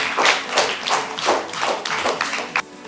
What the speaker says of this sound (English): Give a good round of applause to him.